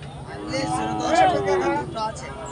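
A small bull calf lets out one low, drawn-out moo among cattle for sale at a market, heard faintly under a steady murmur of background noise.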